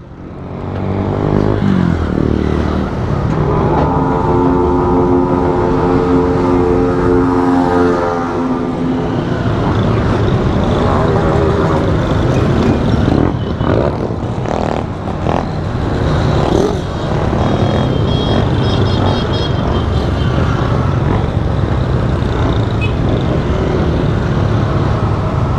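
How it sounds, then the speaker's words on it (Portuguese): Several motorcycles ride close behind on a road near Rio Claro, São Paulo, their engines droning loudly with rising and falling revs and passing rumbles throughout. "Tem muita moto pra trás, tio."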